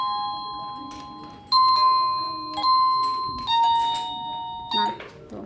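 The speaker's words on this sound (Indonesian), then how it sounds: "bunyinya ya, ada sekitar 37 macam bel" A digital doorbell chime with a selectable tone, one of about 37 melodies, plays repeated bright electronic ding-dong notes in several bursts, with a person talking quietly underneath.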